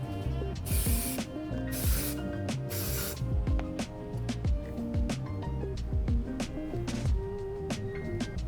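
Spray glue hisses onto the foam of an office chair seat in several short bursts close by, with background music playing throughout.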